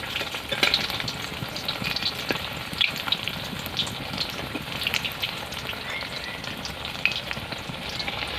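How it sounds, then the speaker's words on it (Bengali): A banana flower chop made with potato and semolina fries on its flipped side in oil, with constant close bubbling sizzle and occasional sharper pops. "আর অপর পিঠটা উল্টে ভেজে নেব"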